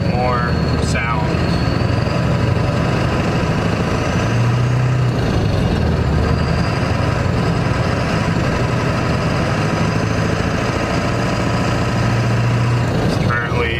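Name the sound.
pickup truck engine running through gears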